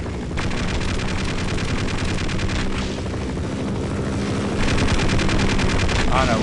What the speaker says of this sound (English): where the heck they're shooting